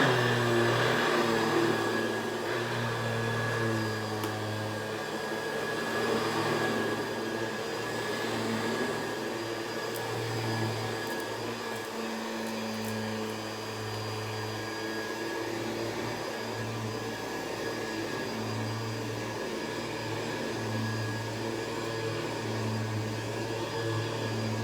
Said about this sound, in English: So much suction it lifts up the carpet.